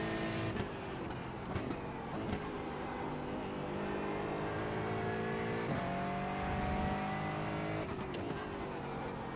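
A GT4 race car in iRacing revs hard, its engine note climbing and dropping in repeated pitch sweeps as the throttle opens and lifts, loud and continuous with no talking.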